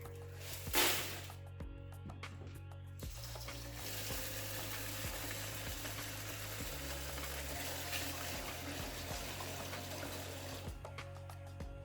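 Dried breadfruit seeds being washed and rubbed in a basin of water, a steady wet swishing and sloshing that runs nearly throughout at low level, with a brief louder splash near the start.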